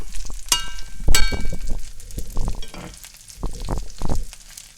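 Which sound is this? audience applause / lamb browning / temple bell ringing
lamb browning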